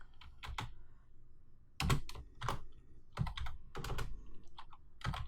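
Computer keyboard typing code in bursts of clicky keystrokes, close and distinct, with short pauses between groups and heavier key presses mixed in.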